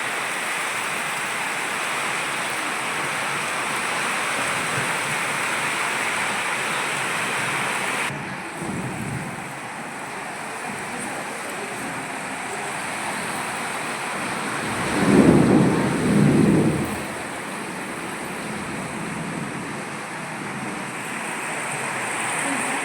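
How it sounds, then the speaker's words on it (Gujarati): Heavy rain roars steadily over a village during a windy mini-storm, and a deep rolling thunderclap swells near the end. "વીજળીના કડાકાને સાથે વરસાદ, ગાજ વીજ સાથે વરસાદ વરે છે"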